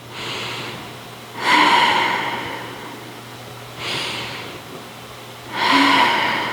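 Deep yoga breaths in a quiet class: three slow, loud exhales through the nose, spaced a couple of seconds apart, with softer inhales between them.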